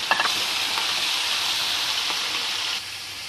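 Chicken pieces fry in hot oil with a steady, dense sizzle and crackle that stays close and even for a few seconds, with a few light clinks at the start.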